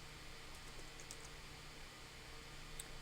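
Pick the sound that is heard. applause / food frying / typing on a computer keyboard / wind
typing on a computer keyboard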